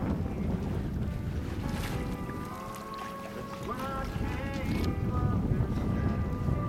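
An O'Day 23 sailboat under way on the Caloosahatchee River, with steady wind and water rush against the hull, a constant close broadband wash with faint tonal hums running through it.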